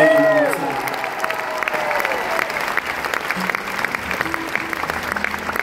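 An audience at a concert in Lancaster, Pennsylvania applauds and cheers loudly and steadily, with crowd voices mixed into the clapping.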